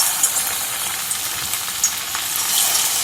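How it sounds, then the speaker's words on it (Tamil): Marinated chicken 65 pieces fry in hot oil in a pan over a high flame, giving a dense, steady sizzle and crackle up close with occasional louder pops, no voices. "எண்ணெய் வந்து சிக்கன் பொரிக்கும் போது ஹை ஃப்ளேம்லேயே வைங்க."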